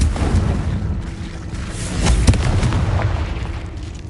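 A Confringo blast from the Hogwarts Legacy video game lands as a heavy, rumbling boom with a sharp burst near the middle, swelling and fading over a dense low roar.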